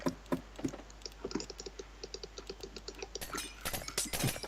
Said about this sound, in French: Désolé pour les clics de souris